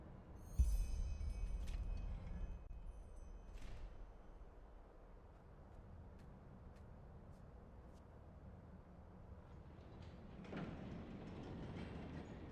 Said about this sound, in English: I'll see if I can get the train running somehow.